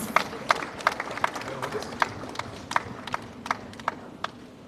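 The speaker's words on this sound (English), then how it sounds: "A warm round of applause for East Khasi Hills, please." A conference audience claps for East Khasi Hills at an international organic farming event: a handful of crisp, separate claps at a loose, uneven rhythm from a fairly small crowd, close and moderately loud, with no voices over them.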